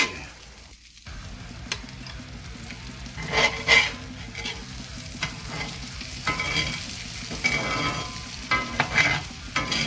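Blackened Cajun salmon sears in a hot pan, a continuous close sizzle and fry with occasional stirring scrapes and bursts of louder spitting, no talking.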